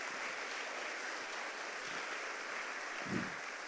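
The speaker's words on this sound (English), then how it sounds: "Give these people a round of applause for being here" A steady, faint wash of applause from an audience at a campus speaking event with Candace Owens at Clemson University, distant and continuous with no single claps standing out.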